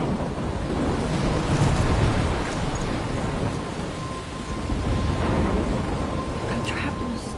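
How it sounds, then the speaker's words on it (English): A storm roars with a dense, steady wash of wind and crashing surf, low thunder rumbling through it, loud and continuous throughout with no clear breaks. "I'm trapped in a storm?"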